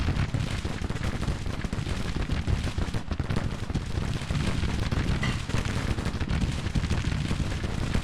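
Artillery barrages in the Civil War strategy game Grand Tactician, a dense, continuous rumble of booms and gunfire that stays loud and steady throughout without pause.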